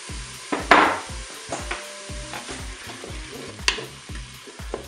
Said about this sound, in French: Je vais maintenant ajouter mes tomates.